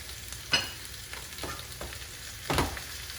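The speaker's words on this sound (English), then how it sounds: "you're gonna just cook the peppers and onions till they're just a little bit translucent" Sliced peppers and onions fry in a pan for plant-based sausage and peppers, with a loud, continuous sizzle and several sharp scrapes as a utensil stirs the vegetables.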